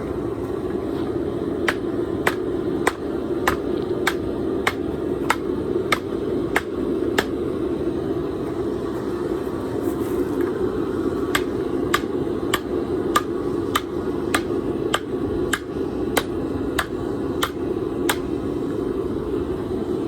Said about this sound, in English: Using the horn of the anvil to kind of uncurl it.